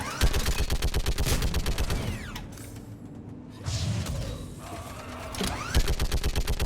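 A mounted turret in the video game Mass Effect Legendary Edition fires in rapid, evenly spaced bursts of heavy shots, pausing for mechanical whirs and a thud, then resuming its loud, regular rattle.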